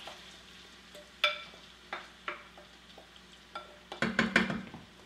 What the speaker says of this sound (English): So I'm just gonna add all of that in to my hot oil